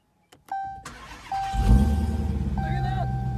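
A Dodge Demon rated over 800 horsepower cranks and fires up. After a few clicks and chimes, the engine catches with a loud roar and settles into a deep, rumbling idle, close up, with no talking.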